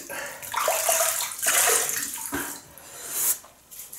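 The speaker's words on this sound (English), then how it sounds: "So rinse the face." Tap water runs and splashes in a sink as hands rinse the face during a wet shave, a continuous close splashing that rises and dips with the hand movements.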